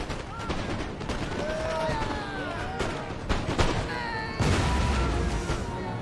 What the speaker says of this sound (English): That last cannon certainly did the work.